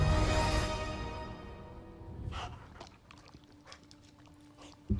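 Charlie, a demonic hellhound in the Marvel's Midnight Suns video game, gives a drawn-out strained whine, then a few short whimpers and snuffles that fade softer.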